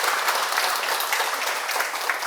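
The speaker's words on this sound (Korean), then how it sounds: "축하 박수 부탁드립니다" An audience at a Korean talk on prenatal care claps in congratulation. The applause is dense and steady, many hands clapping together at close range, and it holds evenly for the whole stretch.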